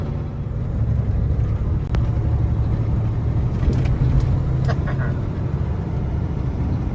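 A 2023 Peterbilt 567 logging truck climbs a mountain pass, its engine a steady low rumble with continuous road and wind noise, loud and close throughout, with a few faint higher clicks.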